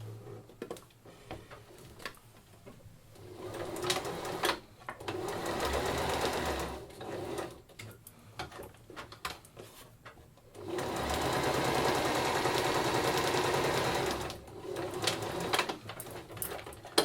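A sewing machine stitches the sides of a drawstring bag in two long, steady bursts of close, whirring motor noise, separated by quieter stretches with light ticking and handling sounds.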